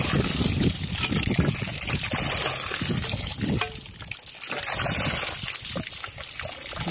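Water gushes steadily from an Abyssinian hand pump, a loud, close, continuous splashing flow with a brief dip in the middle before the full stream resumes.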